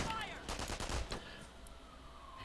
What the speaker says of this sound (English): Oh, single mortar landing up there.